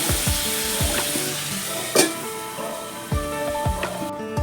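Tomatoes for chutney sizzling in a pan as a spatula stirs them, a loud steady frying hiss with rhythmic scraping strokes and a couple of sharper knocks against the pan.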